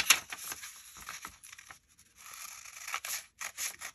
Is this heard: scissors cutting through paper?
yes